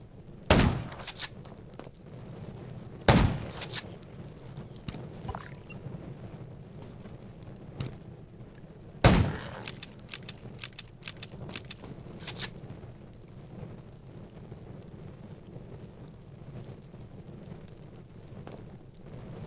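Gunfire in the zombie survival video game Undawn: a few sharp, loud shots spaced several seconds apart over a steady rumbling ambient bed, with scattered fainter cracks and no speech.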